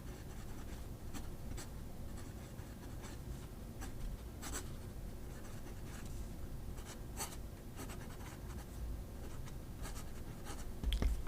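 A TWSBI Obsidian fountain pen nib scratching across paper in soft, close strokes with small clicks, faint against a low background hum.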